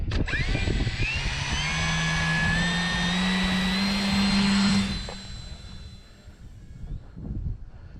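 An RC power glider's electric motor and propeller run up to a loud, steady high whine with a rising pitch, then throttle back and fade after about five seconds amid outdoor wind.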